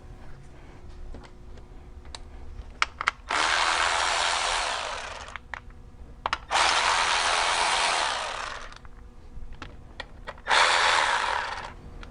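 A power tool loosens a car's power steering reservoir mount in three sustained whirring bursts of a few seconds each, separated by clicks and small metallic taps, close and fairly loud.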